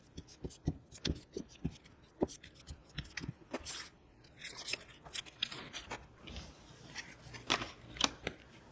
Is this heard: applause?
no